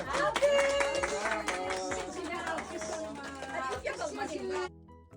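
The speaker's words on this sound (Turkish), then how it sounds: "Alkış." Family members clap along during a belated birthday celebration, rhythmic claps mixed with singing voices and chatter, stopping abruptly near the end.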